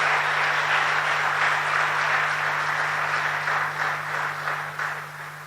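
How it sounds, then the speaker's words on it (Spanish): A congregation claps for the Lord during a church sermon, sustained applause that holds steady and then slowly thins and fades toward the end, with a low steady hum underneath. "Denle un aplauso al Señor"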